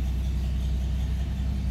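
A 1947 Dodge D24 seven-passenger sedan engine idles steadily just after starting, a close, continuous low rumble with no breaks and no talk over it.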